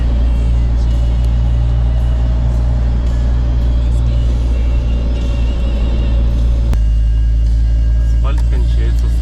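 A motorhome drives along a mountain road with a heavy, constant low rumble of engine and tires close inside the cabin, a brief clunk partway and faint rattles near the end.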